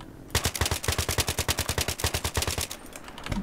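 Automatic gunfire in the video game Battlefield 3, one loud, sustained burst of rapid, evenly spaced shots lasting about three seconds, with no talk.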